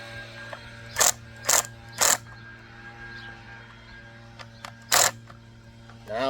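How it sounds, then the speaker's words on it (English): A torque tool ratchets while tightening the battery terminal bolt on a CFMOTO 300NK/300SS motorcycle, in four short, loud bursts of rapid clicking separated by quiet pauses. "I use Phillips to start, torque with the tool, make sure it's tight."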